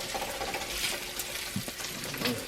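Bacon sizzling on a cast iron grill while being shifted around with small mini tongs; a constant loud hiss with occasional soft scraping and tapping.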